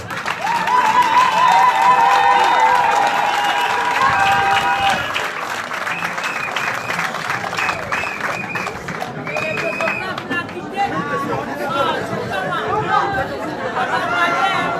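An audience at a political rally applauds as a man is called to the stage, a dense wash of clapping and crowd chatter with talk and sung or shouted voices layered over it throughout.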